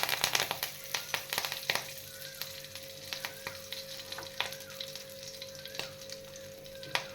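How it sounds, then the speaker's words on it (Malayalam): Mustard seeds sizzle and pop in hot oil for sambar, a continuous crackle broken by many sharp close pops that come thick at first and then thin out. "എണ്ണ ചൂടായിട്ട് വന്നിട്ടുണ്ട് അപ്പോൾ ഞാൻ കുറച്ച് കടുക് ഇട്ടു"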